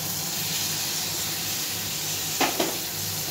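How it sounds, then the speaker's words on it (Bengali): Boiled kidney beans (rajma) dropped into a hot pan of spices and lightly fried give a steady broadband sizzle, with two brief louder crackling bursts near the end as the beans hit the oil. "এইবারে আমি রাজমাটা এর মধ্যে দিয়ে দিলাম, দিয়ে একটু হালকা করে ভেজে নেব।"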